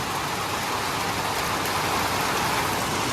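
Steady, dense rainfall in the Konkan region, a loud continuous hiss of drops on surfaces close by with no pauses, heard on its own without voices.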